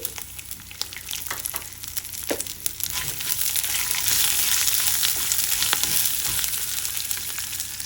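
Garlic cloves and chopped ginger fry in hot oil with dried red chillies for a tomato mint chutney, giving a steady, loud sizzle with occasional stirring clicks, swelling fuller midway and running alone with no talk.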